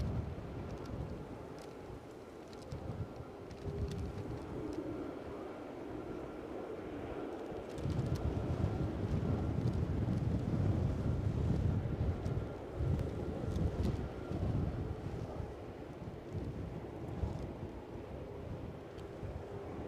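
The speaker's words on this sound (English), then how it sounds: "And the wind is absolutely moving me." Strong gusty wind at Edinburgh airport roars and buffets a microphone in a steady, rumbling rush that swells louder midway and keeps blowing for the whole stretch.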